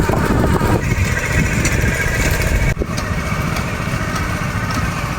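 A rice transplanting machine's small engine runs steadily in a paddy field, a loud continuous drone without pause.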